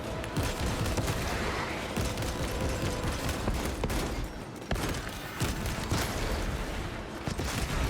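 A Techmarine's servo harness gun in Space Marine 2 fires in a steady, loud automatic stream, with dense overlapping shots and mechanical clatter, briefly dipping once midway before resuming at full intensity.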